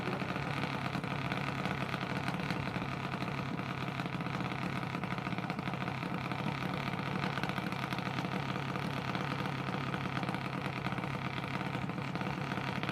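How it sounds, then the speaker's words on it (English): A junior dragster engine idling at Empire Dragway's drag strip, a steady even rumble with no revving, fairly distant and alone with no talk. "And on the left side, you got the Riley Gregory Junior Dragster driven by"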